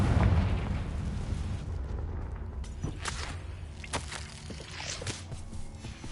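Confringo fire spell from the video game Hogwarts Legacy, a deep booming blast at the start that rolls on in a rumbling, crackling tail, followed by several sharper bursts and pops with no talk.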